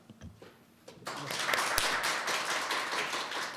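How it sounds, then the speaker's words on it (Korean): Applause from a seated audience closing a session of a Korean business management symposium: after a quiet second, many hands burst into steady, moderately distant clapping that carries on to the end. "다시 한번 큰 박수 부탁드리겠습니다"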